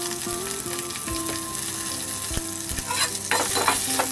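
Green chillies and a pinch of asafoetida sizzling in hot oil in a home kitchen, a steady crackling fry with light spoon scrapes and brief clinks against the pan, no voices.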